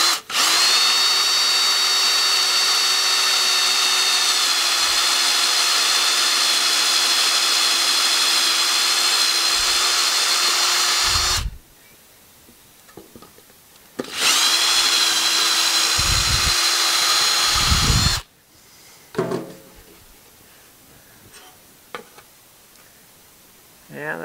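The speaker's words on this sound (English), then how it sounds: "now we're going to drill a 1/4 inch hole, hopefully through both of those holes." A power drill bores a 1/4 inch hole in a raised-bed hoop cover build, with a long loud whining run, a pause, a second shorter burst, then quieter handling noises and brief talk.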